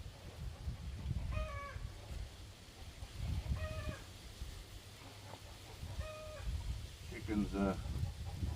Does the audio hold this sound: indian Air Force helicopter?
no